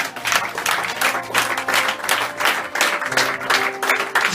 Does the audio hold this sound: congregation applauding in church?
yes